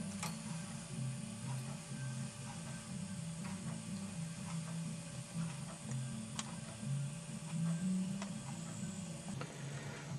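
A Brother knitting machine knitting intarsia, its carriage producing a continuous mechanical clatter with steady ticking and whirring, close and alone without talk.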